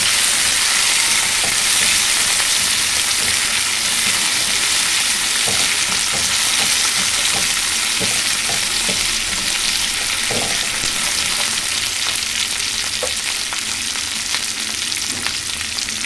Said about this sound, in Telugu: ఫ్రై అవ్వాలండి.